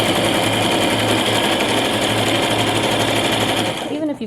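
A Brother LX3817A sewing machine runs steadily at a constant pedal-controlled speed, its needle chatter loud and close, stopping just before the end.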